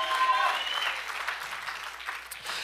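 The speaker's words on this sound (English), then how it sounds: "Come on, somebody, give God a clap offering right now." A church congregation claps in a sustained burst of applause, a moderately faint, dense patter of many hands that holds steady and tapers slightly toward the end.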